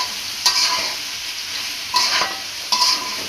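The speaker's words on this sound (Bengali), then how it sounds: "এটাকে ভালো করে কষায় নিতেছি।" Spices sauté in oil in a frying pan with a constant sizzle, broken by three sharp scraping stirs of a spatula spaced unevenly, close and fairly loud.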